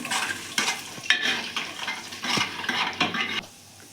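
Cumin, fenugreek seeds and coriander hit hot oil for a Punjabi kadhi pakora, crackling and sizzling in bursts while a utensil stirs and scrapes the pan, close and fairly loud.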